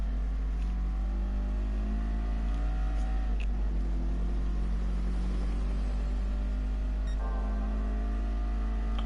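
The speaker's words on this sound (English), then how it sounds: "Oh, it's a Veyron." A Bugatti Veyron drives in the racing game GT Sport, its engine holding a steady, loud drone with shifting tones and a brief change in pitch near the end, heard on its own without talk.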